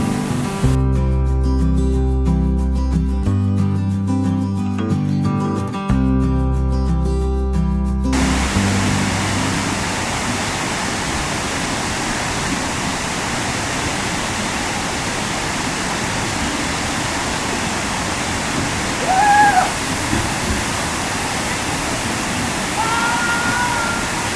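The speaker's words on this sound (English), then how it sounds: "This is Turnback Falls with a roaring water in the background." Roaring water of Turnback Falls, a waterfall in Gorges State Park, North Carolina, a steady, dense rush that continues after about eight seconds of opening music fade out and then holds alone.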